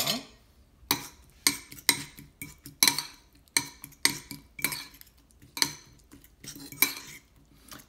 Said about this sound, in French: Ensuite, je vais de nouveau mélanger tout ça.